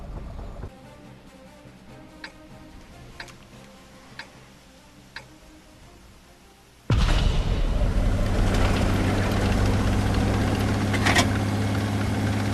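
The engine of a German Hetzer tank destroyer in World of Tanks, quiet ticking clicks at first, then a sudden start into a loud, steady low engine rumble that drones on as the vehicle drives.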